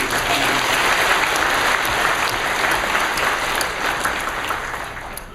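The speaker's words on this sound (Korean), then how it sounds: "십자가의 주님께 우리 한번 영광의 박수를 드립니다." Church congregation applauding during a Korean worship service, a dense, loud roar of many hands clapping together that holds steady, then begins to thin toward the end.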